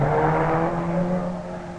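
Rapier rally car number 75 roars past fast on a tight, twisty course lined with brick walls, a loud close engine note that fades slightly as it goes.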